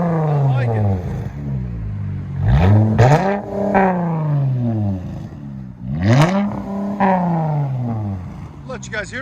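Straight-piped 2021 Dodge Charger GT with a 3.6L V6, several sharp exhaust revs with swooping rises and falls, loud and close, with a voice briefly over it.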